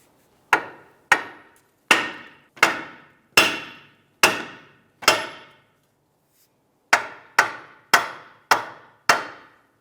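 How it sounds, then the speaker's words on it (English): A hammer strikes the steel control arm knuckle of a 2001-2005 Honda Civic to free the ball joint: eleven sharp, ringing metallic blows in two quick bursts, close and loud, with no talking. "I'm going to go ahead and strike the knuckle here of the control arm and release this from the ball joint"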